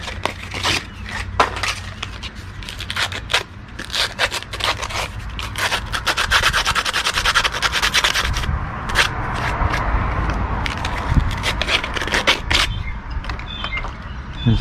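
A homemade drain valve part for a hydroponic NFT water leveling system sanded by hand with sandpaper, close, loud rasping strokes in quick uneven bursts for about fifteen seconds, without talking.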